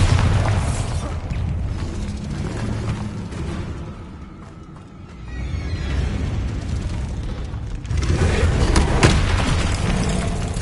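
Bombarda blasting spells in Hogwarts Legacy detonate as loud, booming explosions with rumbling debris, dropping to a quieter lull midway before another heavy blast and rolling aftermath.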